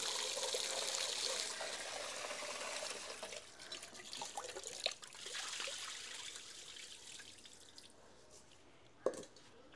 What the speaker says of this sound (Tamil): இதை பார்த்தீங்கன்னா கருவாட்டை கழுவுவோம்.